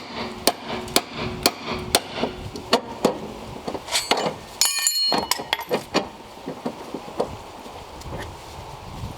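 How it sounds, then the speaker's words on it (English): A hammer strikes a pickle fork on a Lexus IS300 front lower ball joint again and again in sharp ringing blows, first at a steady pace, then in a faster cluster before slowing, close up. "just hit it with the pickle fork and a hammer"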